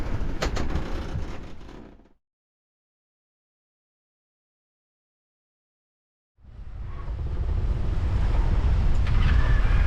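Heavy wind and big waves surge around a 28ft sailboat at sea, a loud rushing roar that fades out into a long silent gap before building back strongly.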